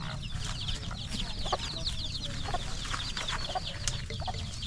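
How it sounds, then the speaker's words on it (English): Chickens cluck and chatter continuously at a rural farm in Phong Nha, Vietnam, with many birds calling at once over a dense, steady background hum. "see the chicken"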